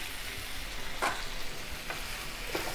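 Tomatoes and onion, salted for a matar paneer gravy, fry in a pan with a soft, steady hiss, broken by a few light stirring taps. It stays fairly quiet throughout, with no talking.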